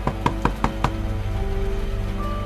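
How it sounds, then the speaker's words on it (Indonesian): Knocking on a door as a radio drama sound effect, five evenly spaced firm knocks in quick succession, close and clear, followed by a quiet lingering room tone with a faint hum. "aku mendengar suara ketukan pintu."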